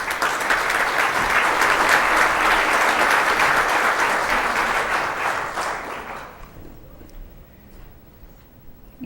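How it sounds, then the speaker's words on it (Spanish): Loud, dense applause from an audience at a university–industry education conference, welcoming a speaker to the stage. It sustains for about six seconds, then fades to a quiet room. "Un aplauso para Fabiola."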